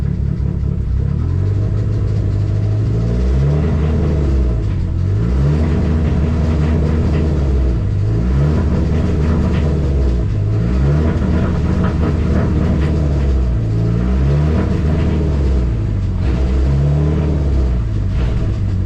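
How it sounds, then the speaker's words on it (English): A Dodge SRT-4 accelerates hard through its gears, the engine note climbing repeatedly, dropping at each shift and rising again in a loud, close, rhythmic sequence of about six pulls, with no talking. "Give this thing a minute and then we'll run it through the gears real quick"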